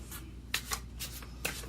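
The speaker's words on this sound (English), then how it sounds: "The reason why I shuffle in front of you, so you know I don't pre-pick them." Tarot cards are shuffled by hand, with a few quick riffling bursts and soft slaps, close and quiet.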